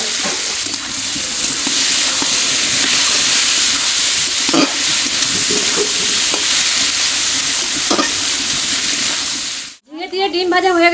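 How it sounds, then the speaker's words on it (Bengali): Fried eggs and ridge gourd cooking together in a pan, with a continuous close sizzle and occasional stirring clicks; the frying cuts off near the end and a voice briefly speaks. "ঝিঙে ভাজা হয়ে গেছে, এখন ভাজা ডিমগুলো দিয়ে দেবো।"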